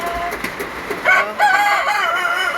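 A rooster crows loudly and close by inside a chicken house during a storm, its drawn-out call rising over softer clucking from the flock.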